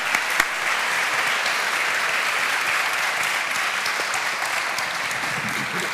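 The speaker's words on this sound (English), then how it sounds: "Now I'd like to give a round of applause to the" A conference audience at a diversity and inclusion event in Cork applauds with dense, steady clapping that fills the whole stretch at an even, sustained level without easing off.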